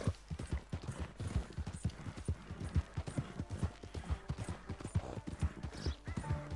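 A horse's hooves clop in a steady galloping rhythm during a ride in Red Dead Redemption, close and continuous throughout.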